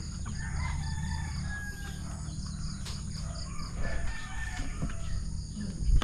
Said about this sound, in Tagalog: Ito yung manok ko yan.